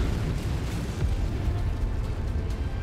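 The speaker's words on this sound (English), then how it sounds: "This fucking artillery." Artillery explosions in the Mechwarrior 5 video game, a dense continuous rumbling roar of blasts and booms, loud and close.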